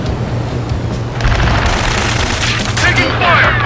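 Gunfire in Ace Combat 7: Skies Unknown during a mission near a space elevator, a dense rolling barrage of booming shots over a low rumble, loud and close, swelling in the second half.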